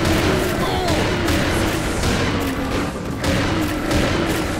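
Dual-wielded shotguns in Serious Sam 2 fire as a dense, loud barrage of overlapping booming blasts, alternating rapidly over chaotic game combat noise.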